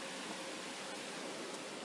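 Fast-flowing water from a big pipe in the woods after recent rainfall, a faint, even broadband rush that holds steady without breaks or voices.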